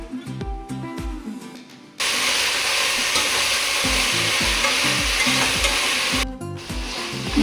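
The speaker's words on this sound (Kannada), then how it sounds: "ಟೊಮೊಟೊ ಫ್ರೈ ಆದಮೇಲೆ ಈರುಳ್ಳಿ ಹಾಕ್ತಾ ಇದ್ದೀನಿ. ಈರುಳ್ಳಿನೂ ಅಷ್ಟೇ 1 ನಿಮಿಷ ಚೆನ್ನಾಗಿ ಫ್ರೈ ಮಾಡ್ಕೊಳ್ಳಿ." Onions and tomatoes frying in a pan for pulao, a loud steady sizzle with rhythmic scraping and stirring strokes of a spatula throughout, the hiss dropping away briefly at each end.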